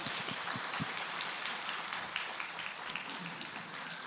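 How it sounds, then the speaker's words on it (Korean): A church congregation at a Sunday worship service gives a soft, steady round of applause, faint and diffuse clapping with no voices over it. "예, 큰 박수로."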